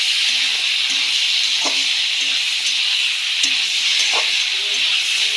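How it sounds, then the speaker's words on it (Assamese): Broiler chicken meat fries in a pan with a loud, steady sizzle and hiss, while a utensil stirs it and scrapes and knocks against the pan at regular intervals. "এতিয়া ভালদৰে মাংসখিনি লৰাই ল'ম।"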